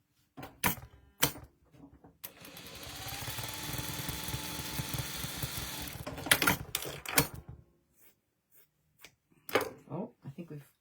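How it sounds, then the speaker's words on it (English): A sewing machine stitches rows of a Christmas tree quilt block together in a steady, close mechanical run of about five seconds, with brief clicks and handling before and after. "she's sewing row 1 to row 2"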